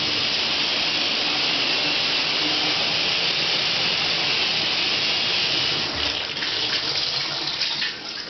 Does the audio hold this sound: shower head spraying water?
yes